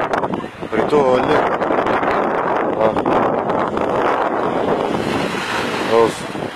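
Strong wind blows across a beach, buffeting the microphone with gusty rumbling over surf, while people talk intermittently.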